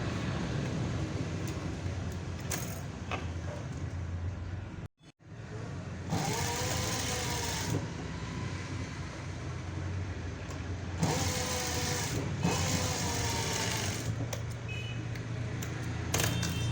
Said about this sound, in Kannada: ನೋಡಿ ಇಲ್ಲಿ ಸ್ಟಿಚ್ ಹಾಕೊಂಬಿಡಿ